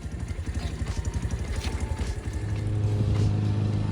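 A Boom Vader Grom-clone motorcycle with a newly fitted carburetor runs with a rapid, pulsing single-cylinder putter that smooths into a steadier, louder idle drone about halfway through. No speech is heard.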